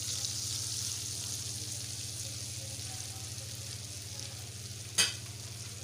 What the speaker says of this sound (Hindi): मक्खन जो है वो हमारा मेल्ट हो चुका है। अब हम इसमें जो है अपनी सेवइयाँ डाल देंगे